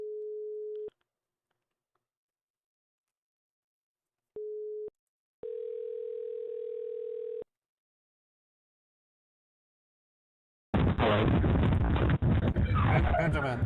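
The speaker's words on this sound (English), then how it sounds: "I'm calling Benjamin back." A phone line gives a steady tone for about a second, goes quiet, beeps briefly, then holds a slightly higher tone for two seconds while the call back goes through; a voice answers loudly near the end.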